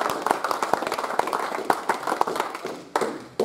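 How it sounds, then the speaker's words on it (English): A group claps for a group of boys, a dense patter of hand claps with some sharper individual slaps standing out, steady for a few seconds before a brief dip and a fresh burst. "Big clap for the boys."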